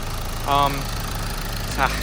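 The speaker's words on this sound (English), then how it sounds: "The engine is very loud." A 2012 Volkswagen Golf TDI diesel engine idles loudly and steadily with a low rumble throughout, its engine cover removed; two short voiced bursts rise briefly above the drone.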